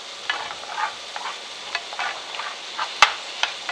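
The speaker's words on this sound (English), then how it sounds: "Want to make sure I give it a nice stir. And all those aromatics are coming out now." Aromatics frying in a pan on a Chinese-style home stovetop, a steady close sizzle with scraping stirs and light utensil clinks throughout, one sharper knock near the end.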